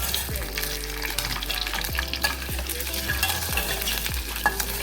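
Eggs sizzle and fry in a pan of oil while being prepared for a prawn curry, with a steady crackle and repeated scraping stirs of a spoon against the pan.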